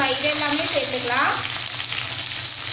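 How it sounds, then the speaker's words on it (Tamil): Chopped onion, curry leaves and dried red chillies hit hot oil for radish sambar, giving a loud, continuous close sizzle with a brief stirring scrape partway through. "இந்த டைமில் நம்ம நறுக்கி வச்சுருக்கக்கூடிய வெங்காயம், கருவேப்பிலை, வரமிளகாய் இது எல்லாமே சேர்த்துக்கலாம்."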